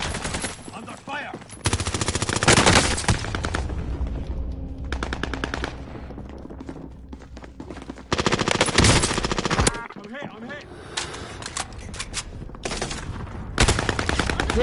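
Rapid automatic gunfire in an online shooter game, loud sustained bursts of machine-gun fire broken by brief gaps, with a player's voice under the shooting.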